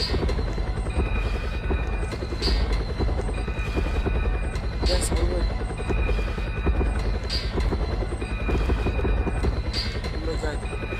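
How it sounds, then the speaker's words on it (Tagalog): Rotor thumping of a helicopter in a Roblox Halloween motel game runs steadily the whole time beneath frantic talk and a voice. "Yung helicopter po nasa na."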